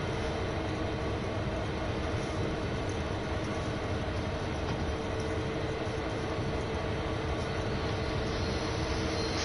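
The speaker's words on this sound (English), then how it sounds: "this is a huge intermodal train" A CSX intermodal freight train rolls in Train Sim World 2 with a steady, continuous rumble and rail noise at an even loudness throughout, with no talk.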